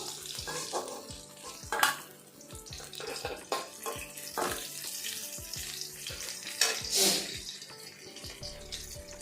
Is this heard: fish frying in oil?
yes